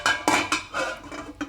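Rice noodle rolls go into a cooking pot, giving a short run of four or five light metallic clinks and knocks against the cookware, close and fairly clear.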